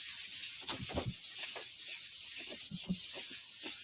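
Paper is rubbed by hand onto a gelli printing plate, giving soft, close, repeated swishing strokes over a steady hiss, with no voices.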